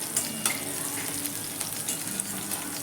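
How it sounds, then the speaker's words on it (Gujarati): Green chillies sautéing in hot oil in a pan, a steady close sizzle and crackle with soft stirring scrapes throughout. "સાતરી લઈશું મરચાંને થોડા કડક પડતા જ કરવાના છે"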